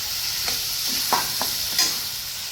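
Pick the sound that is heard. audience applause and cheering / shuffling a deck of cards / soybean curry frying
soybean curry frying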